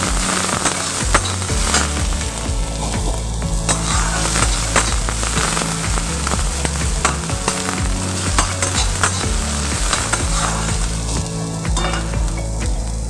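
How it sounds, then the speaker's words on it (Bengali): Chopped onion and green chilli fry steadily in a pan, a dense, continuous sizzle with occasional stirring scrapes, loud and close throughout with no talking. "লঙ্কা কুচি পেঁয়াজটাকে আমি একটু ভালো করে ভেজে নেব যাতে কাঁচা পেঁয়াজের গন্ধ না থাকে"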